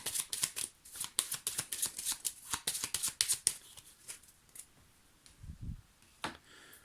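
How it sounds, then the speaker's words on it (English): Wingspan automa cards being shuffled by hand: a rapid run of crisp, papery riffling clicks for about three seconds, then a few softer scattered card taps and a low thump, close and moderately loud. "Shuffle the automa cards together again"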